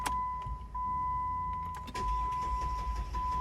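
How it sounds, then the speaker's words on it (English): A 2008 Jeep Grand Cherokee with a 3-liter diesel engine and a hard-starting fault cranks over, a nearby starter churning steadily with a faint electric whine running through it, without the engine catching. "You can crank as much as you want, and it takes a really long time before the car actually starts."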